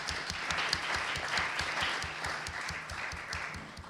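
Audience applause at a city council candidate forum, a steady wash of many hands clapping at moderate level throughout, with faint voices in the room underneath.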